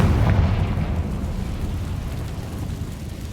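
Confringo fire spell explosion in the Hogwarts Legacy video game: a loud, deep, rumbling blast that starts at once and slowly fades, heard alone.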